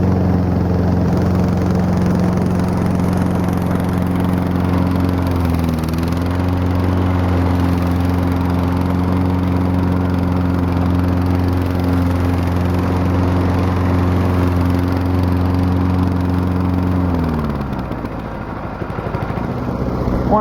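A brush mower's small engine runs steadily at part throttle while cutting through sandy ground, a loud, continuous near drone with a constant low hum that dips and sags slightly toward the end.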